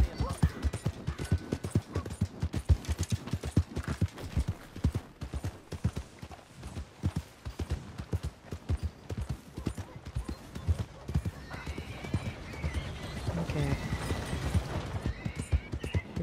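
White Arabian horse galloping in Red Dead Redemption 2, a fast, steady drumming of hooves close by, running throughout, with a voice talking over it and brief extra sounds near the end.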